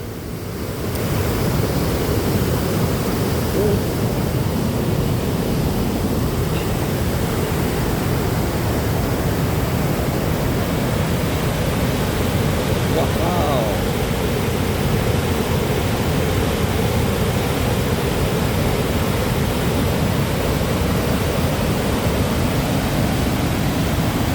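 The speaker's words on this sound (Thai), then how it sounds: "นี่คือสภาพน้ำตกตาตน" Tat Ton waterfall in Nong Sung, Mukdahan, Thailand, roars as a steady, dense wash of rushing water that holds evenly loud and close throughout, with no talk.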